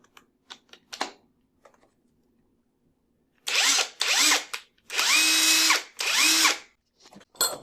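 After a few light clicks, a Makita cordless impact wrench tightening a nut whirs in four separate bursts, each a loud buzzing spin with rising pitch, the later ones longer.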